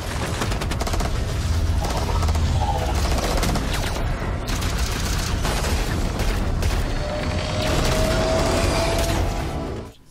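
Dense, continuous gunfire with rapid machine-gun bursts and booming explosions, loud and chaotic throughout with no pauses.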